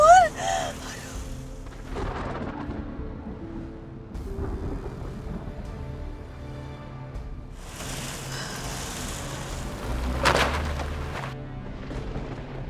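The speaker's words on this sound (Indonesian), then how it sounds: "Aduh, petirnya gede-gede banget." Heavy thunderstorm with steady rain and deep rumbling thunder, including a loud crack near the end and earlier rolling booms, while a person speaks briefly at the start.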